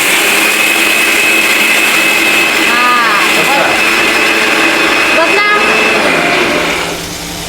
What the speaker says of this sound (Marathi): सोडा आता ते मिक्सर सोडा